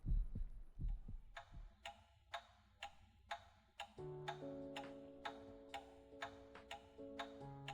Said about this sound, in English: the steady ticking of the clock on the wall is the only sound in the room